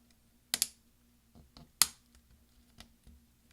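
Several small plastic clicks and snaps close up, two sharper ones standing out among fainter taps, as a replacement keyboard key on a 13-inch mid-2010 MacBook Pro is pressed into place.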